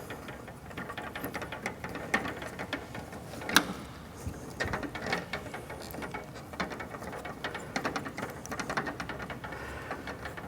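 A hose clamp tightened around the dust collection hose on a Laguna F1 Fusion tablesaw overhead guard, a series of small clicking, ratcheting turns and light metallic taps, close and fairly quiet.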